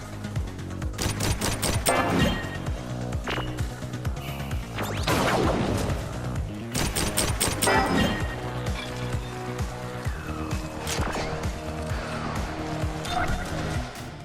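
Rollerdrome, a third-person roller-skating shooter, fills the scene with dense bursts of gunfire and crashing impacts layered over a constant droning game soundtrack.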